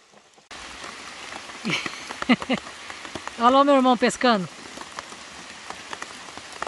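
Steady rain patters across a river outdoors where people are fishing, a soft continuous hiss with scattered drops, while someone talks over it and another voice briefly calls out.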